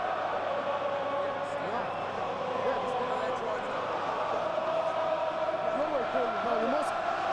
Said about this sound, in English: The French crowd have taken over at Twickenham.